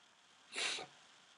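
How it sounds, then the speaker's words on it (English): A single short, breathy burst of noise rises sharply and fades within half a second, like a stifled sneeze, against a quiet background. "I got to sneeze"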